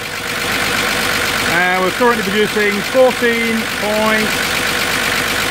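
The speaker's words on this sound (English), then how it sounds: "Now I've got the engine on fast idle" A car engine runs at a steady fast idle during an alternator voltage test, giving a constant close drone while someone speaks over it.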